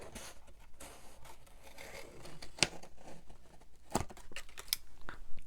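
Scissors snipping through paper for a handmade trash journal, a few sharp irregular cuts with soft crinkling and handling noise in between, close and fairly quiet.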